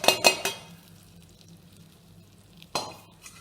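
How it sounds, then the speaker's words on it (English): Cooked rice being scraped from a metal pan into a pot for Tirumala Pongal, three quick metallic clinks and scrapes at the start, a quiet stretch, then a final clatter of utensil against pot. "now I'm transferring that part of the rice."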